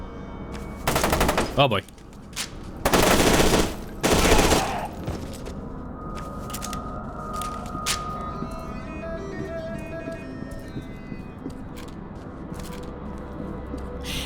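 Enemy gunfire in the shooter game F.E.A.R. 2 rips out in three loud, close automatic bursts, then gives way to quieter game sounds, with someone briefly speaking.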